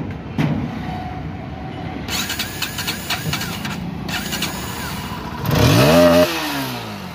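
An 800cc car engine with a worn head seal leaking oil idles close by with a rough, steady drone and a faint rapid ticking from the head, swelling louder briefly near the end.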